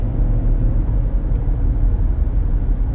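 Low, steady road and engine rumble inside a 2011 Jeep Grand Cherokee Laredo cruising at 60 mph, with worn brakes, rotors and outer tie rods; a continuous droning hum with no talk.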